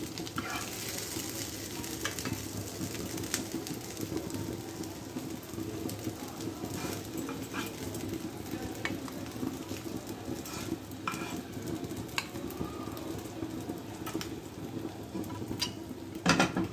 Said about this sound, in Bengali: চপগুলো ভাজা হয়ে গিয়েছে, এখন আমি সুন্দর করে তুলে নিচ্ছি একটি একটি করে।